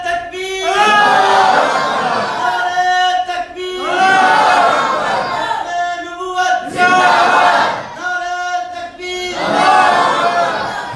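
A large crowd at a Punjab religious gathering chants the takbir slogan in response, loud rhythmic group shouts in three or four swelling waves with brief gaps between them.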